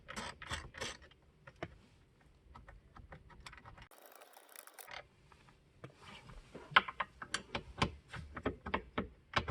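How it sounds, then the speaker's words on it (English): An 8mm wrench works the two small bolts at the bottom of the glove box in a 2000-2006 Honda Insight, giving close, quiet ratcheting clicks and small metallic taps in irregular runs. "8mm wrench and remove these two little bolts or screws at the bottom of your glove box"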